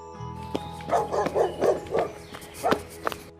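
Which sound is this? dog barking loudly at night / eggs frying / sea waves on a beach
dog barking loudly at night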